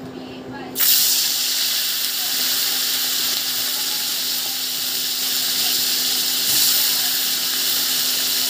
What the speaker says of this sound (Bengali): চিংড়ি মাছগুলোকে হালকা করে ভেজে নেব